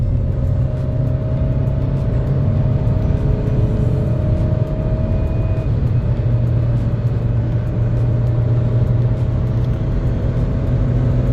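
A 2020 Jeep Renegade Flex Limited accelerates in sport mode at half throttle in drive, heard from inside as a steady, loud engine drone that holds for the whole stretch with no talking.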